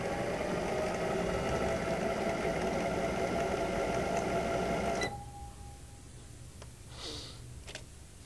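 A drive motor running at high speed gives a steady, loud broadband hum with a constant tone for about five seconds. It then cuts off abruptly, leaving quieter background with a few faint clicks.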